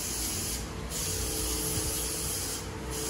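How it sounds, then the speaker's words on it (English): Lysol disinfectant sprayed over shower surfaces in a truck-stop shower, a near continuous close hiss with slight pulses as the nozzle is pressed repeatedly. "spray down any surfaces that I know I'll be touching"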